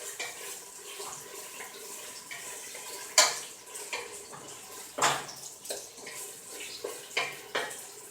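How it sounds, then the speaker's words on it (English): Water running from a kitchen tap while hands are washed, a steady close splashing stream broken by a few sharp knocks and clinks of dishes at the sink. "So let me wash my hands."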